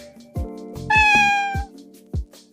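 Several cats meow close by, with one long, loud, drawn-out meow in the middle surrounded by shorter, overlapping calls and small knocks, heard alone without speech.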